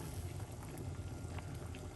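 Water boiling in a pot for a lemon and parsley drink, a steady dense bubbling and roiling that runs throughout, close and fairly loud with no talk over it.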